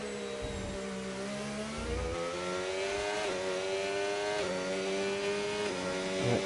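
A race car engine in a sim racing game at Las Vegas screams at high revs in a loud, continuous drone. Its pitch climbs and drops sharply several times as the car runs through gear changes.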